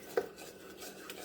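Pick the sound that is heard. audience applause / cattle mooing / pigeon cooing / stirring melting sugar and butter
stirring melting sugar and butter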